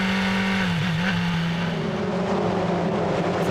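BRDC Formula 4 single-seater race cars at Snetterton circuit, a steady high-revving engine drone with a sustained tonal whine, loud and close throughout, with no speech.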